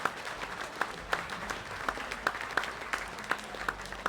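An audience claps steadily in a moderate, continuous round of applause, heard from a little distance.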